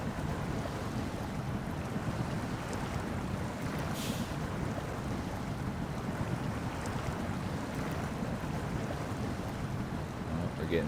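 SnowRunner truck stuck in water in snowy Alaska on hard mode, a steady dense engine rumble and churning wash that carries on without a break, with no speech.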